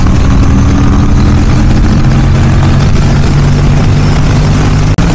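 Twin-cylinder engine of an Aprilia RS457 motorcycle drones loudly and evenly while riding at speed, a smooth continuous hum with wind rush and no talking, ending in a brief dropout.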